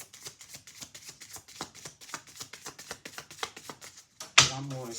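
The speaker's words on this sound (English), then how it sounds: "I said just 2 and kept on shuffling." Tarot cards being shuffled by hand in quick, repeated riffling bursts, close and clear, ending in a louder thump or clatter.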